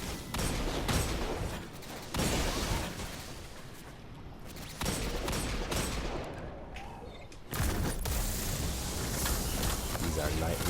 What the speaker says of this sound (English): Look at this thing, it just kills everything with like 1 or 2 shots